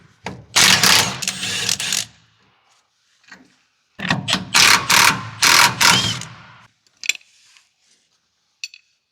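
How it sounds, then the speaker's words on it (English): Factory bump stop being removed from a Dodge Ram with hand tools: two bursts of loud, close mechanical ratcheting and rattling, followed by a few faint clicks and taps. "The first thing we're going to do is remove the factory bump stop."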